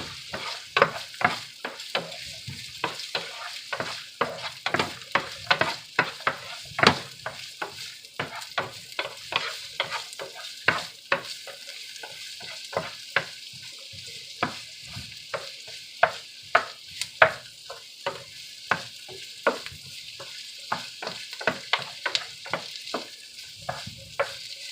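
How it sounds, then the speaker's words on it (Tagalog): Onions being stirred as they fry in a pan, with a steady sizzle broken by frequent scraping strokes of the spoon throughout, close and moderately loud, no talking. "paghalo-haluin lang natin ng kunti para mababrown din ang onions"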